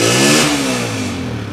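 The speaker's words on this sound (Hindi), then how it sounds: "बहुत अच्छे साउंड में होंडा बोल रहा है" A 2012 Honda 125 motorcycle engine revs loud and close, a rough mid-pitched roar that rises briefly then settles toward a steadier note.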